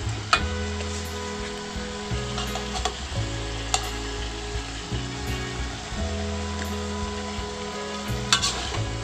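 Cauliflower and broccoli sizzle and fry in a pan over high heat, a steady crackling hiss with occasional stirring clinks and scrapes, close and continuous with no speech.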